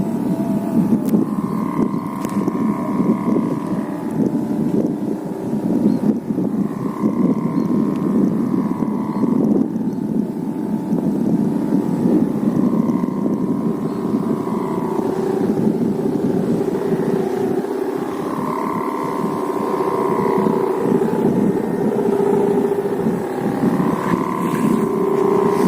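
A humming sawangan kite flies in Bangkalan, Madura, giving off a continuous droning hum with tones that swell and fade in slow pulses, heard over steady wind noise.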